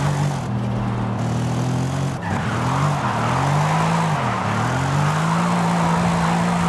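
A car in Forza Horizon 5 drifts and skids, its engine note rising and dipping through gear changes while continuous tire squeal and skidding noise stays loud and close throughout.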